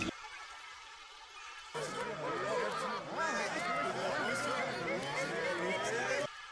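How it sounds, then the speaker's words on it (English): Crowd ambience sample in a beat intro, a murmur of many overlapping voices and chatter that starts quietly, jumps louder and fuller partway through, then cuts back down near the end. "So I added these like"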